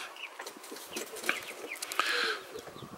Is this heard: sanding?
no